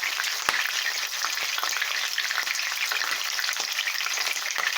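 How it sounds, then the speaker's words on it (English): Ham hock meat sears in hot oil in a frying pan under a splatter screen, giving a steady, dense sizzle and crackle throughout with no talking. "We've just placed the meat on the frying pan."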